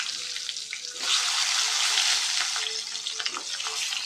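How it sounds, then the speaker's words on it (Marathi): Stuffed green chillies hit hot oil seasoned with turmeric and asafoetida, a loud steady close sizzle and crackle of frying with faint stirring clinks and no talk. "लगेच ह्या भरलेल्या मिरच्या घालून"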